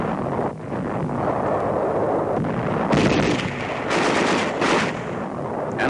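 Small arms and mortar fire in a 1945 battle as Australian infantry push inland, dense bursts and crackling blasts with louder impacts near the middle, on an old newsreel soundtrack without narration.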